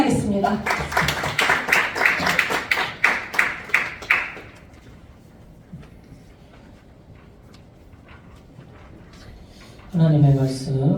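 Congregation clapping to welcome a preacher at a Korean Thursday church prayer meeting: a few seconds of moderate hand claps that quickly die away into room hush before a voice resumes.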